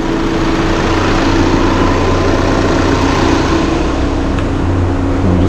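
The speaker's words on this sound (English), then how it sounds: "If I get in there and give it a bit of throttle" Skoda car engine being given throttle while its exhaust temperature sensor is checked, a loud, close, steady droning engine sound throughout.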